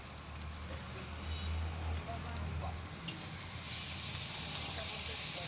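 Onion, garlic and green chili fry in a pan with a steady sizzling hiss that grows louder and brighter toward the end, while someone talks nearby.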